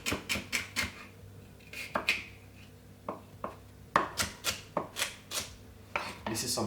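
Knife chopping a stalk of celery on a board, a quick series of sharp, close taps in short bursts with brief pauses between them, loud and clear with no talking over it.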